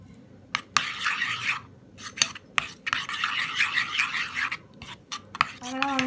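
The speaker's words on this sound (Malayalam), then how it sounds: "ഇനി എല്ലാം കൂടെ ഒന്ന് മിക്സ് ആക്കി എടുക്കാം" Raita ingredients stirred together with cumin powder and salt, a close, rough scraping and rubbing in repeated bursts, stopping and starting, with a brief clink near the end.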